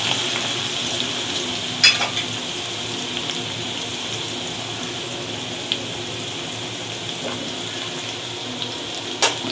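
Garlic goes into hot oil in a home kitchen, giving a steady, even sizzle with a bright frying hiss throughout, broken by a few sharp clicks and pops of utensils against the pan.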